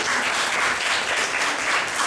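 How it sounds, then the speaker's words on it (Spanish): Audience applause after a talk, a brief burst of dense, even clapping from a small crowd lasting about two seconds, with no voices over it. "Un aplauso."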